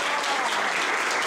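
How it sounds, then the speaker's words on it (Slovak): Short, steady burst of audience applause at a seminar on mind and emotional control techniques, many hands clapping together in an even wash. "je Ivka, prosím, daj potlesk."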